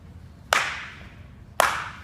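A coach's two crisp hand claps, roughly a second apart, cue the stride and swing in a baseball hitting drill; each clap is loud, close and sharp, decaying quickly into a quiet room.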